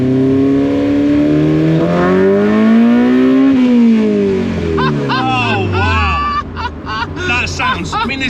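A K-swapped Mini Clubman engine revs hard and rises in pitch, then drops away as the car passes, loud and close, with people's voices audible over the tail end.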